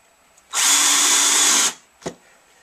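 A power drill with a countersink bit bores a hole, whirring at high speed for about a second, then stops, followed by a short knock; close and loud.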